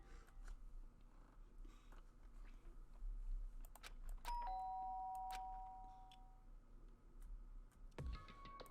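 A doorbell rings in the video game Danganronpa: Trigger Happy Havoc with a clear two-tone electronic chime in the middle of a quiet room hum. A second brief tone sounds near the end.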